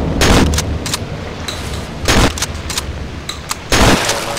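Shotgun blasts from the horror video game Cry of Fear: three loud, sharp booming shots spaced about a second and a half apart, each with a brief echoing tail, over a faint background hum.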